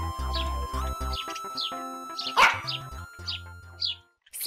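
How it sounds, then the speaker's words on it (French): A cartoon dog barks in a series of sharp, close yaps in a lakeside picnic scene, spaced irregularly over light background music. "Poppy, le fidèle chien de Mia, les a accompagnés."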